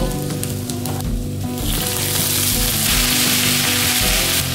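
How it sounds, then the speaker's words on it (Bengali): Potato pieces fry in hot oil in a wok with dried red chili, a bay leaf and five-spice seeds, making a loud, continuous close sizzle that swells steadily and has no talking over it. "আলুগুলো একটু লাল লাল করে ভেজে নেব।"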